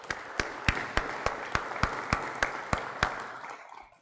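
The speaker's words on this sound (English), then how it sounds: "So let's give them a round of applause." Audience at a lineman class graduation clapping for the graduates in a slow, evenly spaced rhythm of about a dozen distinct claps that fade out at the end.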